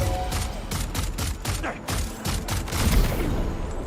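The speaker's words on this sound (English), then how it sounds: "The enemy heard a gunshot." Gunfire in the video game Death Stranding 2 on brutal difficulty, a rapid run of sharp repeated shots and booms, close and loud, with mechanical clatter between bursts.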